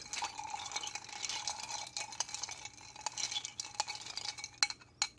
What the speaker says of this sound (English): And then stir that a bit.